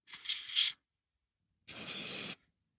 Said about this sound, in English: grab some electrical contact cleaner and spray both ends of the connector.